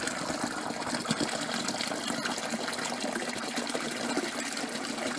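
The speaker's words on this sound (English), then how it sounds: "And now I'm going to top my fermenter up to about, it'll go to about 20 litres." Water gushes steadily into a wine kit fermenter being topped up to about 20 litres for a Winexpert Cabernet Sauvignon, a continuous loud pour heard alone with no talk.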